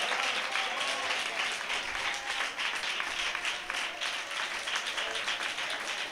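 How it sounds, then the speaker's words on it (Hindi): A church congregation claps loudly in thanks during a prayer service, a dense, steady wash of applause filling the room for several seconds without a break. "जोरदार ताली बजाकर परमेश्वर को धन्यवाद करें"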